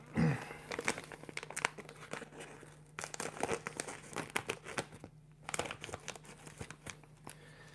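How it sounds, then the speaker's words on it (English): A plastic bag of aquascaping substrate crinkles and tears as it is cut open with scissors, with irregular close rustling and crunchy snips continuing throughout, no talking. "Scissors, let's open the bag up."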